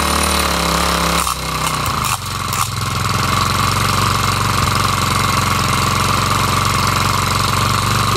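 A Craftsman 34cc four-stroke string trimmer engine idles steadily and loudly close by, with a continuous buzzing rattle and a brief dip near the start.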